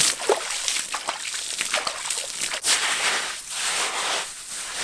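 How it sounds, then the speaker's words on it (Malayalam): Wet sand and soil being mixed and kneaded with water by hand outdoors beside a stream, giving repeated close sloshing, squelching splashes in an irregular rhythm with no talk. "ഇനി ഇത് രണ്ടും നന്നായിട്ട് നനച്ച് കുഴച്ചെടുക്കാം"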